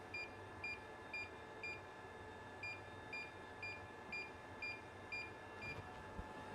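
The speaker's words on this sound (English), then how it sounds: "It's beeping at me because it's not level" An out-of-level laser level gives off a regular run of short, high beeps, about two per second, over a low hum from the room. The beeps are quiet and no one speaks.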